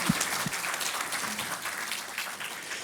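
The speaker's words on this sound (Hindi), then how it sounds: "तो इसलिए तालियां बजाते रहिएगा।" Scattered applause from a kavi sammelan poetry audience, a light, uneven patter of clapping running throughout.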